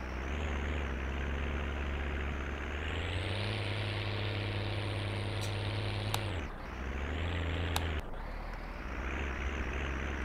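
A tractor engine in Farming Simulator 19 idles steadily, then revs up to a higher droning pitch, drops briefly and settles back into a low rumbling idle, loud and close with no voices.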